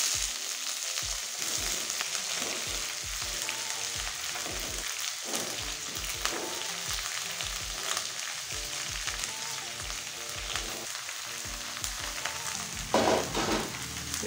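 Chopped mixed vegetables fry in oil tempered with whole spices, a steady sizzle and crackle running throughout with repeated scraping stirs of a spatula against the pan.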